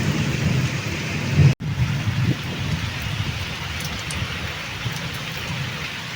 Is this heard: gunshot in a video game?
no